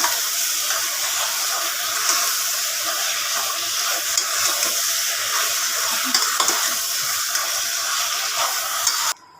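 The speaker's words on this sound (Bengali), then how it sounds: "এখন একটু নাড়াচাড়া করি, একদম শুকনা করে ভুনা করবো, বেশি করে পেঁয়াজ দিয়ে।" A pan of chicken bhuna with potatoes and plenty of onion is stirred as it fries dry: a steady, close sizzle with scraping stir strokes continues throughout, and no voices are heard.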